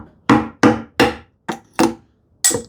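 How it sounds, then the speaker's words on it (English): A chisel held bevel down chipping away at wood from the top, six sharp mallet-driven knocks in an uneven rhythm with a short pause before the last, loud and close. "I'll go bevel down because this one, and I will start with chipping away from the top"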